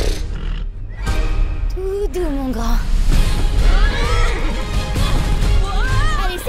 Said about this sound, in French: Ce cheval est bien fougueux!